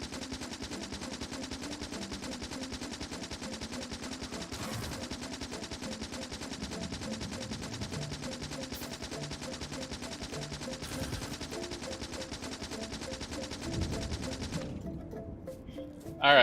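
Sustained rapid gunfire from guns shooting at enemy bug bases in Factorio, a dense, steady, unbroken rattle lasting throughout, with a few heavier bursts and a short thinning near the end.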